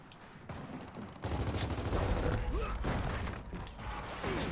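Gunfire in a 5v5 Escalation match of a shooter video game, with quick bursts and rattling mechanical clicks over a dense, continuous background of battle noise, steady and fairly loud.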